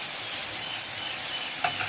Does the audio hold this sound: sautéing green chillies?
yes